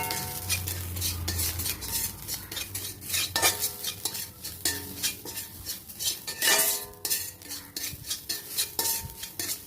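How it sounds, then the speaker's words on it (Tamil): Onions sautéing in oil in an iron kadai, a steady busy mix of scraping stirs and metal clinks against a soft sizzle, loud and close with no talking. "நான் ஆயில் விட்டுட்டு ஃபுல்லாக வதக்கிறேன்."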